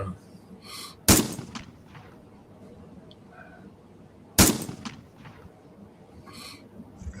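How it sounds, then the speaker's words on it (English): Two sharp gunshot bangs ring out a few seconds apart, each followed by a brief echo, with faint voices murmuring in between. "that's supposed to be a gunshot."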